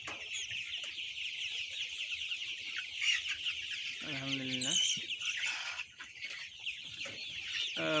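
33-day-old Sonali and broiler chickens on a poultry farm cluck and chirp continuously, a dense nearby flock chorus that runs throughout, with someone speaking briefly over it.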